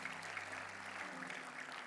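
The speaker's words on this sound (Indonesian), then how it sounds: "Kasih tepuk tangan yang meriah buat Tuhan Yesus." Faint, steady clapping from a church congregation, heard at a distance with a low hum underneath.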